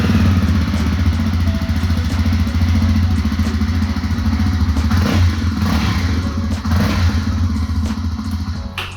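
A Jawa 350 Classic motorcycle's 350cc engine idles steadily and loudly up close, a low continuous rumble with faint mechanical clatter.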